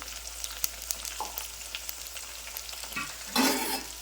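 Ginger and garlic paste frying in a hot pan, a soft continuous sizzle with light stirring scrapes and a sharper crackling burst near the end, quiet and close with no talk.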